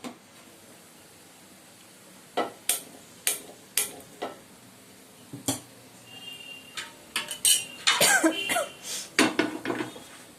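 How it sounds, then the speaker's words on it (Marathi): An iron tawa griddle set onto a gas stove amid kitchen pans: a series of sharp, close metallic clinks and clatters, scattered at first, then crowding together into a busy run of knocks toward the end. "गॅस पेटवून तवा ठेवते"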